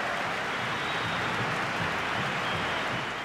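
A dense, continuous roar of a large stadium crowd cheering in a football video game, even and sustained throughout, with no clear individual voices standing out.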